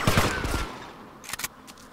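A small handgun fires in GTA Vice City: a quick cluster of sharp shots up front, then another short burst a moment later, fairly close over quiet game ambience.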